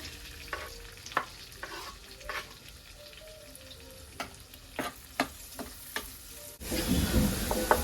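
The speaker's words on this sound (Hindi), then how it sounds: "अब इसमें हम प्याज डालेंगे।" Onions frying in a pan for homemade pasta, a faint background sizzle broken by sharp, irregular clinks and scrapes of a spoon, then a sudden louder hiss near the end, close with no talk.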